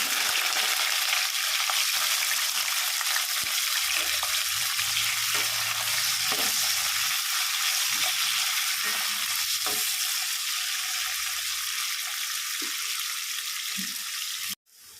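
Bitter gourd pieces frying in oil in a kadai, a continuous loud sizzle with occasional stirring knocks throughout, ending abruptly with a short clatter.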